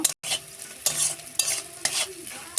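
A spatula scrapes through a pan of salted onions frying in oil in four or five rhythmic strokes, each stroke bringing a burst of frying hiss.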